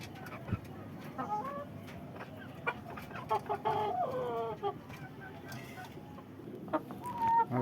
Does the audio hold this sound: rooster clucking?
yes